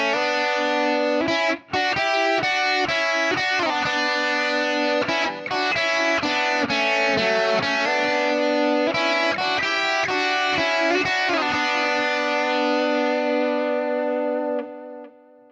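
An electric guitar plays a harmonized lead through a Fractal FM3 preset with a delay throw added halfway: loud, distorted sustained notes in a melodic run, with echoes trailing off at the end and no talking.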